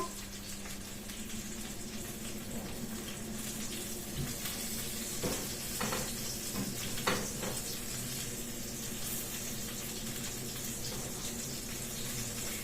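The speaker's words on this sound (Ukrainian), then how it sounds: "в мене рибка смажиться" Hake sizzles and spatters steadily in a hot pan, a continuous close crackle with occasional louder pops and faint clinks.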